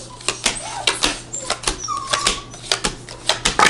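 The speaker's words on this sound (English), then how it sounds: "My puppies would be making sound, so excuse me for that." Several puppies whimper and yip indoors in short, high-pitched bursts, with sharp clicks and taps mixed in at close range.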